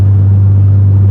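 Audi engine with a new exhaust of CanAuto headers and resonated mid-pipes, heard from inside the cabin while driving: a loud, steady low drone with a constant rumble, no voices.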